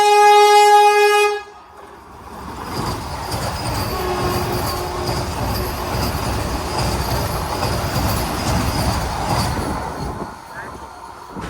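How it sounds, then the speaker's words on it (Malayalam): A Mumbai Vande Bharat Express overtakes on an Indian railway line, opening with a sustained loud horn before a continuous rushing roar of passing carriages with wheel noise lasts for several seconds. "അപ്പോൾ നമ്മളെ ഓവർടേക്ക് ചെയ്യുകയാണ്. ഇതുണ്ട് മുംബൈ വന്ദേ ഭാരത് എക്സ്പ്രസ്."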